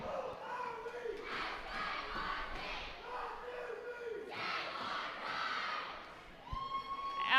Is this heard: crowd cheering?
yes